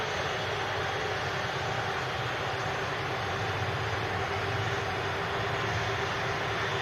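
Virgin Atlantic Airbus A330 taxiing at an airport, a steady broadband engine roar at moderate distance, constant and unbroken throughout with no talk.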